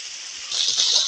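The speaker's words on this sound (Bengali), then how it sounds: "স্বাদ মতো লবণ, পরিমাণ মতো হলুদ, ভালোভাবে মশলাটা কষিয়ে নিব।" Spice paste with salt and turmeric fries in a pan, a steady close sizzle that swells louder partway through the brief moment, with no talking.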